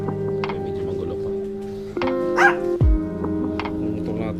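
A dog barks several times at a house still under construction, with sharp yips cutting in near the middle and end over a steady motor hum.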